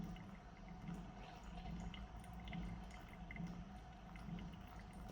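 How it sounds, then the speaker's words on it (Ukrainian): Hot water pours slowly and gently over a pour-over coffee filter, a faint steady trickle and dripping heard close up, with no talking. "А ми потроху проливаємо водичку"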